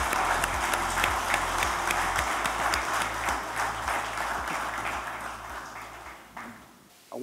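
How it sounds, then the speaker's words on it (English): Audience applause at a Central Motors & Equipment company event, a dense, steady wash of clapping that holds loud for most of the stretch and then thins toward the end. "Let's welcome him with a big round of applause."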